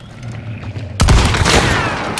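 A shotgun blast in the video game Hunt Showdown bursts out loud and close after a quiet, low ambient hum, its heavy report and echo ringing on for about a second.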